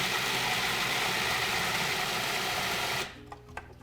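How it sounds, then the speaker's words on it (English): Food processor pureeing romesco sauce, a steady loud motor whir with blade churning that runs continuously for about three seconds, then cuts off abruptly, leaving faint clicks and rattles. "And puree again until it's smooth."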